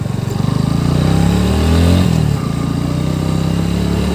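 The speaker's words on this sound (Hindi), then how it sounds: "खींच के देखेंगे बाइक को" A motorcycle on an evening ride on the Chorla route is revved hard, its engine note climbing and then easing off, loud and close with steady wind noise behind it.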